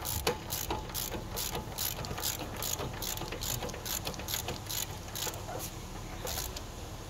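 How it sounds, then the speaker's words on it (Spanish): A ratchet wrench clicks rapidly while loosening bolts during radiator removal on a 2006–2013 Chevrolet Impala with the 3.5 V6. Steady, close mechanical clatter runs throughout. "Este otro puedo usar lo que es la matraca."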